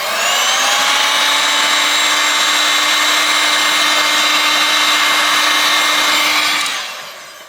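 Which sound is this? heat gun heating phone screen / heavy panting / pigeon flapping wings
heat gun heating phone screen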